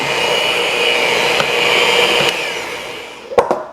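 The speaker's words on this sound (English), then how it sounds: "So you're just doing enough to cream the butter and the sugar." Electric mixer creaming butter and sugar for fruitcake cookie dough, a loud steady motor whir that runs unbroken, then switches off and ends in a couple of sharp knocks.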